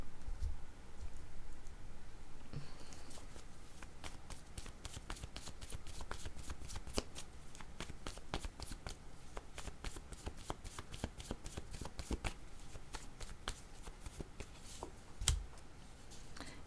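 A deck of cards is shuffled again and again, a long run of rapid riffling flicks and soft snaps that stays close and even throughout, with no voices.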